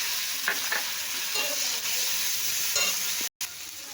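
Ground cumin, garlic and chili paste sizzle steadily in a hot pan for a hilsa fish head and taro greens dish, with a few soft stirring scrapes and a brief dropout near the end.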